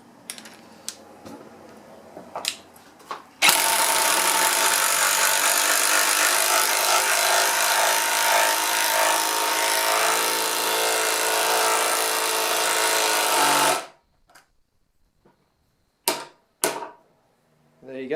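An impact driver drives in a screw with a loud, continuous, rattling whir lasting about ten seconds and stopping abruptly, with a few clicks and handling knocks before and after.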